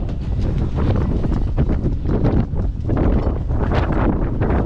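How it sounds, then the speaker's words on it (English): Strong wind blusters steadily outdoors by a long jetty where a boat is moored after a storm, a loud continuous roar buffeting the microphone with gusty surges throughout, and no one speaking. "See the wind now."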